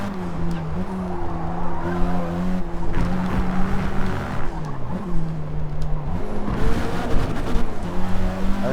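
A race car in Forza Motorsport with an understeering handling character, its loud engine revving up and down through shifts alongside tire squeal and skidding, sustained and close throughout.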